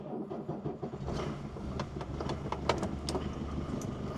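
An old car engine cranks and catches, then settles into a steady, close low rumble with irregular clicks and knocks over it.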